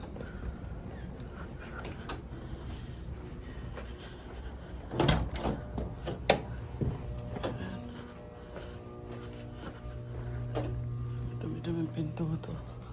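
Several store doors open and close indoors, giving a cluster of sharp knocks and clunks mid-clip. Softer handling sounds follow, then a steady hum underneath. Quiet background noise runs throughout.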